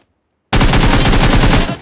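Automatic gunfire from a battle royale video game bursts in after half a second of silence, a loud, rapid rattling stream of shots lasting over a second before tapering off.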